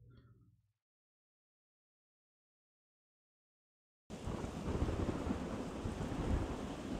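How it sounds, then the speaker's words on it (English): Steady rain with thunder rumbling in the video game Ayo the Clown, starting abruptly after a few seconds of silence and continuing as a dense, loud wash of rainfall. "it's raining."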